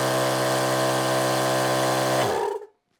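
A 12V Thumper Max II air compressor fitted with a custom copper outlet runs with a loud, steady mechanical drone, then winds down and stops just before the end.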